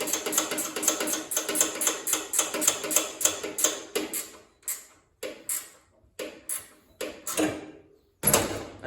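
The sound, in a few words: ratchet wrench tightening a bolt on a Grasshopper mower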